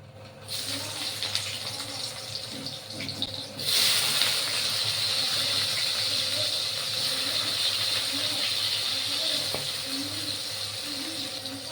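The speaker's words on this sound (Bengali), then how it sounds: "সেই তেলেই আবার বেগুনটাকে ভেজে নেব।" Cubed eggplant fries in the oil left from frying bori, a continuous close hissing sizzle that jumps louder partway through as the pieces go in, then holds steady, with faint clinks underneath and no talking.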